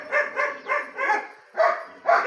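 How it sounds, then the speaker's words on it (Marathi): A dog barks in a steady series of about six loud, close barks with short gaps, the last two after a brief pause. "गपके लय भुकायला लागले बाई"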